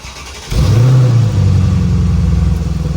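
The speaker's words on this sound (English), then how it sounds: "The roar of the engine when you start it for the first time in a day" A Mercedes-Benz AMG SLK 55 V8 cranks and fires up abruptly on a cold start, roaring loudly, then settles into a deep, rumbling high idle, close and unaccompanied by talk.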